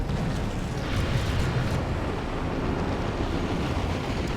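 A missile hit in the video game Dawn of War II: Retribution produces a dense, rumbling explosion that roars on steadily for several seconds without a clear break.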